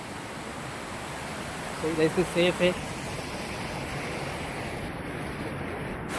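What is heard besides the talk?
river water flowing across a road crossing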